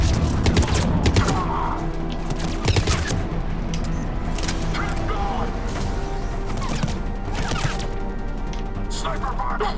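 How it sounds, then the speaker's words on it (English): Sniper fire in Mass Effect Legendary Edition on PC, a loud dense barrage of gunshots and booming impacts rattling continuously through the battle, with speech mixed into the combat din. "Sniper fire!"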